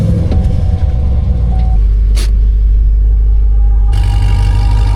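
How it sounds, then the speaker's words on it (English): A 5th-generation Camaro ZL1 is moved in an open spot. Its exhaust makes a loud, deep, steady V8 rumble close by, with a brief sharper rise near the end. "but at least we get to hear the exhaust."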